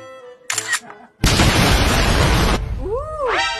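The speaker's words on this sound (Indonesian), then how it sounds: "Meledak." A cartoonish explosion sound effect in a comedy skit: a sharp broadband blast bursts in after a brief sound and roars for about a second before fading into a warbling, swooping tail.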